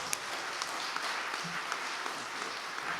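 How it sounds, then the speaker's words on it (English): Audience applause at a Nigerian Excellence Night gala in London, a steady, fairly soft wash of many hands clapping without pause. "please, a big round of applause for her"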